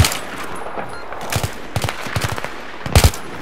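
Gunfire in the Battlefield 3 video game, with scattered single shots and short bursts at uneven intervals, some nearby and loud, others fainter.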